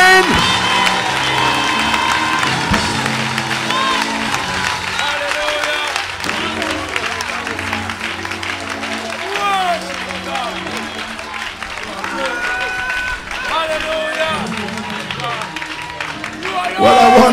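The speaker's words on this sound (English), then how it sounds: "Give him a clap offering." A church congregation breaks into sustained applause with cheering and whoops, a loud crowd of clapping hands filling the room throughout, with voices calling out over it.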